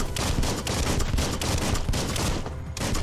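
Dense, continuous gunfire while shooting enemies in the Biomutant video game, loud rapid overlapping shots that fill the whole stretch with no break and no talking.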